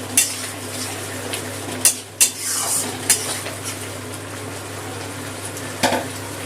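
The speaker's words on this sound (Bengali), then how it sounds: "টক দইটা দিয়ে একটু ভালো করে কষিয়ে নিয়েছি" Spiced masala with sour yogurt sautéed in a pan for a katla fish curry with mustard and poppy seed, giving a steady soft sizzle with several sharp spoon scrapes and clinks against the pan over a low constant hum.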